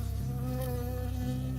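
A bee buzzes close by in a forest setting. It gives a steady, continuous drone with a bright harmonic hum that holds through the whole moment, with no voices.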